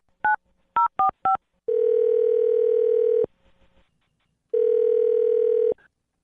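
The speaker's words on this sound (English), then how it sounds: "I'll dial his phone number right now" Telephone dialing of a phone number: four short, crisp keypad tones in quick succession, then a long steady ringback tone, a brief pause, and a second long ring, all clear and close with no talking.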